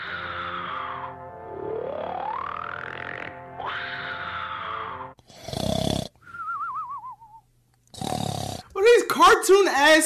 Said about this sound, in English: Cartoon ass snores, man.